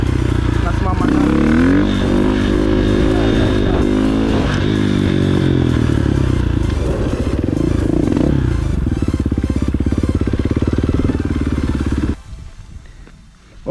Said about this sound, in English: I'm not holding the clutch anymore, just using the accelerator.